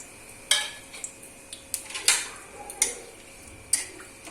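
Whole spices, namely bay leaf, cardamom, clove and cinnamon, dropped one by one into hot ghee in a metal pan, giving a handful of sharp ticks and clinks spaced apart over a quiet background.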